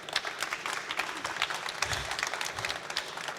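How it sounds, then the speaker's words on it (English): Audience applause for a guest at a music production studio talk, a steady dense wash of clapping lasting the whole moment at moderate level. "Let's give everybody applause for him."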